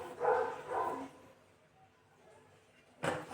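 A pet dog barks two quick yips indoors, then one more bark a couple of seconds later, moderately loud against a quiet room.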